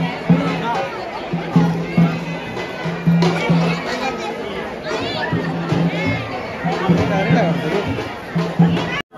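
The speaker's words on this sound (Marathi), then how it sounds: "मंदिरात आलेलो आहोत. गर्दी भरपूर आहे." Dense crowd chatter fills the Jyotiba temple in a steady, close hubbub of many voices, with rhythmic low drumming and chanting running underneath throughout.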